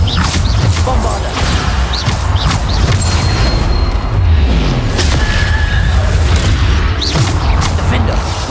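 Bombarda explosion spells from the Hogwarts Legacy video game go off repeatedly in loud, close booms and crashes, layered over dense, continuous combat noise with a faint voice mixed in.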